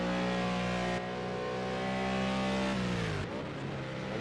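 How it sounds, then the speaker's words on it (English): McLaren GT3 race cars roar in Project Cars 2 on Azure Circuit, a loud sustained engine drone with a steady pitch that drops suddenly near the end, as if shifting or backing off, with no talk. "Those McLarens are rather loud."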